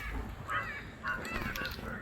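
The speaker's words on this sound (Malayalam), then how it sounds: "ഒരു കാക്ക കഷ്ടപ്പെട്ട് വെല്ലുവായിൽ അലറിക്കൊണ്ട് പോണു." A crow caws outdoors, giving a couple of harsh, ragged calls as it flies away, moderately faint against a steady background hush.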